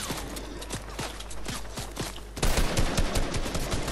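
Fortnite gunfire crackles in rapid repeated shots, first at a moderate distance and then louder and denser bursts close by, with no voices.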